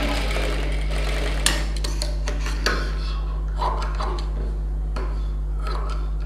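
A sewing machine runs continuously, stitching a tulip-style sleeve on a designer blouse, with a steady hum and occasional clicks and knocks from handling the fabric. Nobody speaks.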